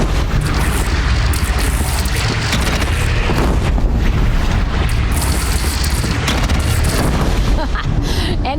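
Booming cannon fire and explosions from a bandit clan's cannon in the video game Horizon Zero Dawn, loud and continuous with a dense crackling battle din throughout.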